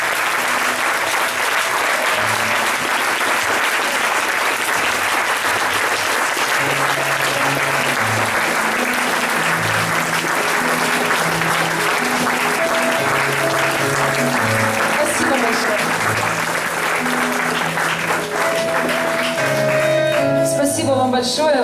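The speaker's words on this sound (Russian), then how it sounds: "Аплодисменты!" Sustained, dense applause from a large audience fills the whole stretch, steady and loud, with a faint musical tone running underneath.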